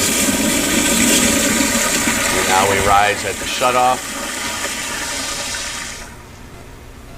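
A Sloan sensor flushometer toilet flushes at the valve with a loud, steady rush of water lasting about six seconds, then cuts off sharply to quiet; someone speaks briefly over the flush near its end.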